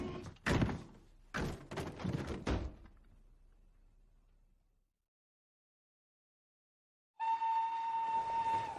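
A train on a railway, with a few heavy metallic clunks and thuds up front, then near silence, followed by a sustained, steady horn-like tone that ends the stretch.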